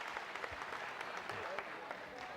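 Studio audience applause at a live broadcast, steady dense clapping from a crowd, faint and distant throughout.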